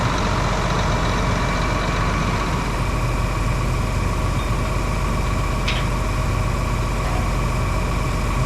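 A tractor that has just pulled a stuck irrigation pivot out of the mud idles nearby with a loud, steady, low engine drone throughout, and no voices.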